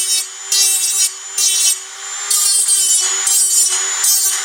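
A small Dremel rotary tool with a sanding wheel grinds against a metal edge at low speed, deburring it, in a steady, high whine, its pitch and loudness shifting in bursts as it presses on and lifts off.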